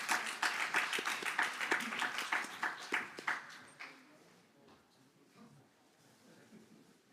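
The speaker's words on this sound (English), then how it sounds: "A round of applause for our lucky couple." An audience at a corporate mid-year review event applauds prize winners with a few seconds of fairly sparse, rhythmic clapping that thins out and fades into quiet room noise.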